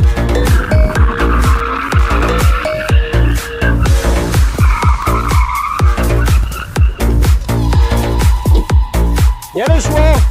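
A BMW E46 drifting sideways, its engine revving hard in repeated bursts while the tires squeal and skid loudly and close, with voices talking over parts of the run.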